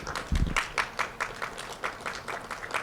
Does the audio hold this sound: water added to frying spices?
no